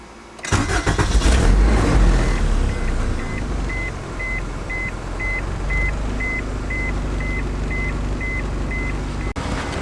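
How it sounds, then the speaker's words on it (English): An Acura Integra that burns oil cranks and fires up, then settles into a steady idle with a repeating chime beeping over the engine hum, close and continuous. "Let's start this thing up."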